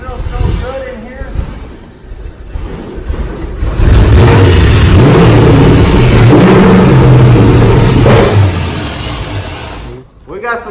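An LS V8-swapped Mazda RX-7 FD, a rebuilt wreck, idles, then revs hard into a loud, sustained, rumbling roar for several seconds before dropping back off. Voices are heard around it.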